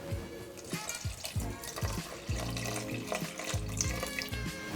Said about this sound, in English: we're going to go add in 210 mils of water